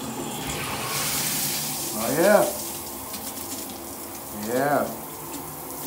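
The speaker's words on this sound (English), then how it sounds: "This is cold water that's coming out." Cold water running steadily from a Kohler shower in a hotel bathroom, a continuous hiss of spray close by, with a brief spoken word over it and two short tonal squeaks as the valve is worked.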